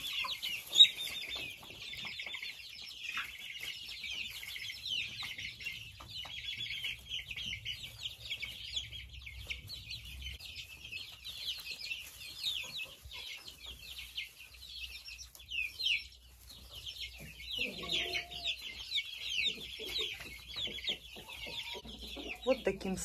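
Young chicks raised in a separate coop at a dacha cheep and peep continuously in a busy, overlapping chorus, with softer clucks and occasional rustling beneath.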